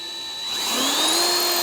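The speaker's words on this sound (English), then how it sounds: "I'm using just standard 2-inch wood screws to make sure this is secure to the wall" A power drill drives standard 2-inch wood screws into a wall while mounting an aluminum railing, its whining motor rising in pitch and holding steady, loud and close, with no talk.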